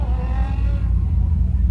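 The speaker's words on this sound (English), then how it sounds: "I'm just trying to clutch kick right now." A Ford Fusion-swapped Miata on a drift course, its engine revving hard and droning close by during a clutch kick, rising and falling in pitch over a low rumble.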